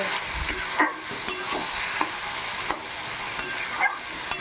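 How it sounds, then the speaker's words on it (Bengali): Bottle gourd and prawn curry simmering and sizzling in a pan while a spatula stirs it, producing a continuous close hiss with periodic soft scraping strokes and no voices. "নেড়ে চেড়ে নেব আবার এইভাবে নেড়ে চেড়ে নিয়ে নিয়ে জলটা মরিয়ে নেব"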